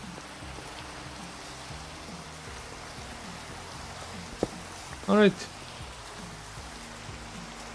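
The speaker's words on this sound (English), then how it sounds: "Ah, it's raining." Rain falling outdoors, a soft, steady patter heard faintly in the background, with someone briefly speaking over it partway through.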